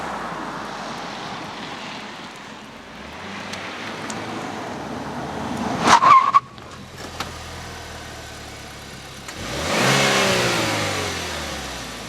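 A 2014 Buick Verano Turbo engine revs hard through corners, rising and falling in pitch with a loud burst near the middle and another climb toward the end, heard up close with no talking.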